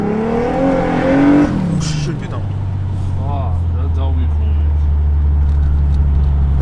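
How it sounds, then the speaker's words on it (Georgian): Turbocharged M104 engine in a Mercedes W124 E320 holds a steady, loud low drone close by after a short stretch of talking at the start. "იმედია ტურბოს ხმები გამოჩნდება."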